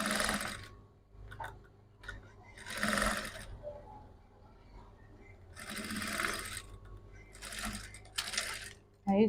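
A sewing machine stitches a bra cup onto the under-bust of a bustier in several short bursts of rapid whirring, separated by quieter pauses.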